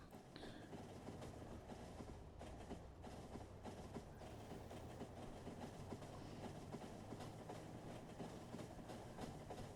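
A train in the video game Factorio rolls along the rails toward a small station stop, a faint steady clickety-clack of wheels and carriages throughout with no speech.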